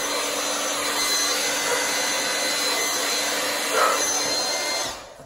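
A steady, loud whooshing blow dryer runs continuously on high, blowing acrylic paint poured on a tile, then cuts off abruptly near the end.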